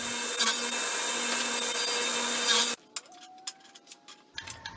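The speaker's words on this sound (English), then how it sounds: "So I use the millimeters and my little saw stop right there to cut the right lengths." A small saw with a stop block cutting wood segments to length for a segmented bowl makes a loud, continuous high whine for nearly three seconds, then cuts off, leaving quieter knocks and taps of the pieces being handled.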